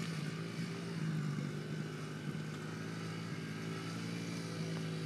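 A child rides a 70cc dirt bike, its small engine droning steadily at moderate distance, fairly quiet and even, with no voices over it.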